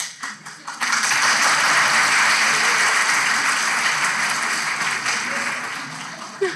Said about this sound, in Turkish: Kim başlattı o alkışı?